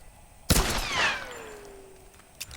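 Gunfire in the Tomb Raider video game: a single sharp blast followed by a descending whistling tail and ringing decay, fairly quiet, with a faint thump near the end.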